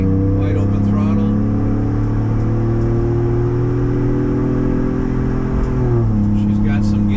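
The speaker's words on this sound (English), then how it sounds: "Getting onto the highway, wide open throttle." A 2021 Ford Bronco with an MRT King of the Hill axle-back dual-tip exhaust accelerates at wide open throttle onto a highway, a loud, deep, sustained engine drone rising steadily, heard from inside the vehicle while someone talks over it.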